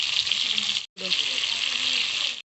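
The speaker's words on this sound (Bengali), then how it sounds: "ওই একই তেলে কপিগুলো ভেজে নেব।" Cauliflower pieces fry in mustard oil with a loud, close, continuous sizzle that cuts out briefly near the middle and then comes back.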